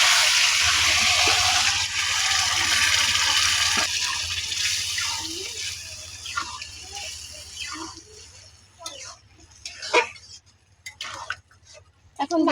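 Boiled mung dal pours from a container into a pan of rohu fish head curry: a steady, fairly loud liquid rush that thins into scattered drips and light splashes.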